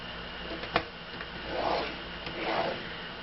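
Faint rubbing strokes of cardstock being scored along a scoring board for note cards, with a small click and two soft scrapes, quiet and close.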